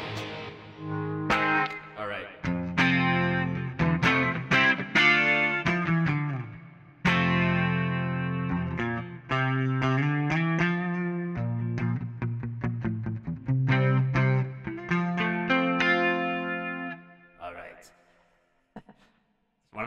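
An electric guitar played by a rock musician, run through effects and heavy distortion during a tone check, with bursts of chords and sustained, chorused notes alternating with brief pauses, loud and close.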